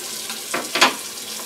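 Tap water splashes briefly over a shaving brush being rinsed, two short bright gushes close by in a quiet room, with no talking.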